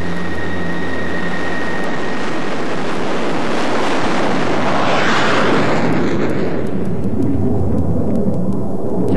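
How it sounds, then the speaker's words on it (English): A supersonic F-16 fighter jet at Hill roars loudly and close by, a broad rumbling wash that swells as it passes midway and then eases into a fading hiss, with no voices. "there are always supersonic F-16s at Hill, waiting on the runway, ready to fly."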